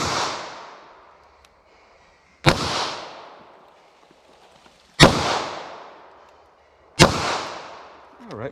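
Three sharp, loud gunshots from a Taurus 905 9mm revolver, spaced about two seconds apart, each with a sudden crack followed by a decaying echo, plus the tail of an earlier shot at the start; no talking.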